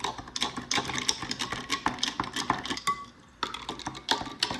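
A spoon stirs orange lemonade with ice in a glass, making rapid, irregular clinks and taps against the glass close by, pausing briefly before resuming, with no speech.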